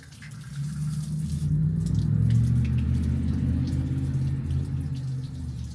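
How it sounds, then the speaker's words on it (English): Water purges through an old water line on power equipment and out of a wand: a steady, rushing, hissing flow that rises quickly and holds for several seconds, close and fairly loud. "We're gonna purge this water line out"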